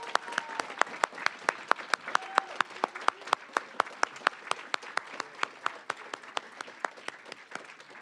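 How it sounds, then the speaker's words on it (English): An audience applauds the honorees at an awards event honoring Dr. Martin Luther King Jr. Many hands clap steadily with sharp, close claps standing out from the general wash, and some faint voices mix in. "Can we give them one more round of applause?"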